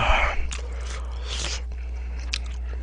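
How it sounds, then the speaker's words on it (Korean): Crunchy kimchi is chewed close to the microphone with wet, crisp bites and squelches over steady low hum, the crunches loudest at the start. "김치가 아삭아삭 씹히는 게"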